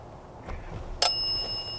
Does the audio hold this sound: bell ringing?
yes